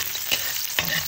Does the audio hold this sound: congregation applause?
no